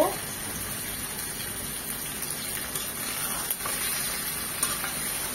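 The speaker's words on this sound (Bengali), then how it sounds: "সেগুলো এখন এই তেলের মধ্যে আর পেঁয়াজের মধ্যে দিয়ে দিব" Chicken cut into eight pieces frying in oil with onions for a chicken curry with jackfruit seeds, giving a steady, close broadband sizzle that holds level throughout with no talk over it.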